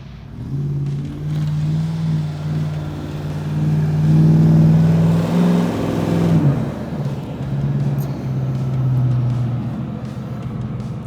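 A heavy off-road vehicle with a powerful engine revs hard while climbing a hill, the engine note rising and holding a strained, loud drone for several seconds before dropping back and surging again, close to the microphone with no talk.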